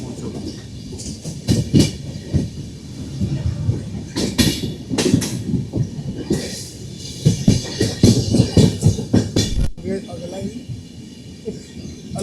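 12342 Agnibina Express running into Durgapur station, loud continuous wheel rumble with rapid rhythmic clatter and bursts of broadband rattling as it passes over points, close and sustained, with a brief drop near the end.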